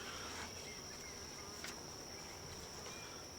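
Bees around an open beehive give a faint, steady insect-like buzz with a constant high whine throughout, no voices.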